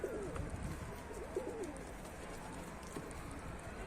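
Racing pigeons coo repeatedly in a loft, soft low burbling calls rising and falling close by over a steady background hum, with no talking.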